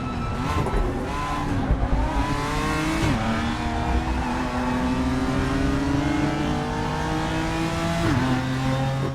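Racing car engines in the sim racing game RaceRoom during a multiclass race, a loud, steady high-revving drone with repeated gear shifts and pitch climbs, several cars audible together, no talking.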